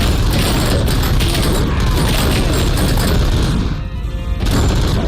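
Pistol gunfire in the video game RoboCop Rogue City, a dense run of loud, booming shots and crashing impacts filling the scene almost without pause.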